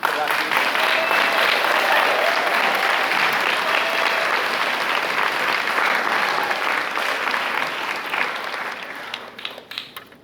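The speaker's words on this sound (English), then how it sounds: "So I just want you to applaud for them one more time." Audience applause for a community summer chorus after a performance, a dense, steady wash of many clapping hands that holds loud for about nine seconds before tapering off at the end.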